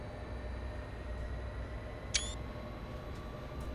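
A single short camera shutter click sounds in Train Sim World 3, sharp and brief, over a constant low train rumble.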